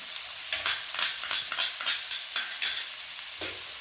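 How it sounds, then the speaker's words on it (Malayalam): Chopped ginger and garlic sautéing in a pan, a rapid series of crisp scraping stirs over a bright sizzle, close up; no talking. "ഇനി നന്നായി വഴറ്റണം"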